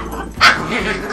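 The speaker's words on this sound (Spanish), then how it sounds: "¡Mamá, está gruñendo!" A dog growling and barking: one sharp, loud, close bark rises out of a low rumbling growl, all within about a second.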